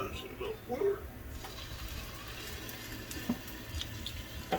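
Water is splashed into a hot pan to steam egg rolls, a short hiss and spatter followed by quieter sizzling and a few light clinks.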